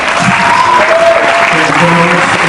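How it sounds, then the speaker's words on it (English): Audience applause after a talk at a TSS 2015 Edge Series event in Lagos, Nigeria: a dense, loud, steady wash of many hands clapping that fills the full clip without pause. "Let's have a round of applause."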